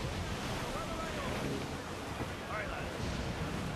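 Wind and crashing waves of a squall at sea in the video game Assassin's Creed Black Flag, a loud continuous rushing roar of surf and gusts with no break.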